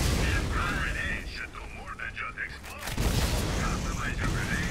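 Gunfire in the video game Borderlands, a dense, loud barrage of shots and booms with bursts that dip briefly before resuming, with a voice partly heard under the noise.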